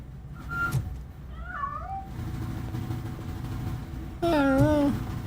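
A cat hidden inside a piano meows in the video game Robocop: Rogue City, three separate calls: a short one, a quieter wavering one, then a louder drawn-out meow near the end over a low background rumble.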